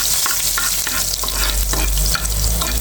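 Garlic frying in a pan for a spinach and potato stir-fry, a steady close sizzle with repeated scraping stirs and a constant low burner hum throughout, no talk.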